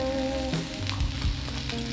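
Beef steak frying on a hot surface at a Japanese hot-spring inn dinner, a steady close sizzle with some low rumble and tonal hum underneath, no voices.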